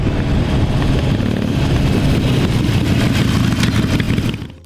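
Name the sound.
Harley-Davidson motorcycle engine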